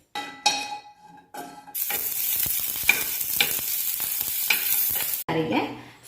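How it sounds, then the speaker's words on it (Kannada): Green chillies dropped into a little oil on a hot pan flare up into a loud, hissing sizzle after a few quiet clicks, crackling steadily for several seconds before cutting off with a clatter. "ಹಸಿಮೆಣಸಿನಕಾಯಿನ ಹಾಕ್ಬಿಟ್ಟು ಚೆನ್ನಾಗಿ ಫ್ರೈ ಮಾಡ್ಕೊಳ್ಳಿ."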